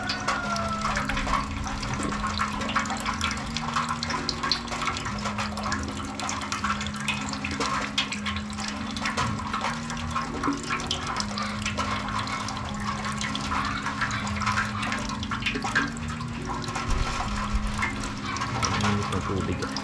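Water runs steadily while rinsing the cooling system of a Suzuki Raider R150 during a coolant change, a continuous close splashing flow with a low engine-like hum beneath it.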